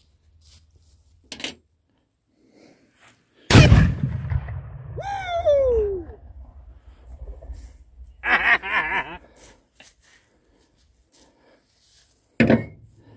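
A black powder cannon fires one loud, booming shot with a lingering rumble, followed by scattered quieter sounds and voices.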